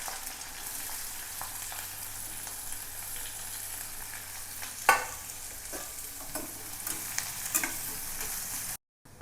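Chopped onion and cumin seeds fry in hot oil in a pan for a spicy chicken dish, a steady close sizzle with occasional stirring scrapes and a clatter midway.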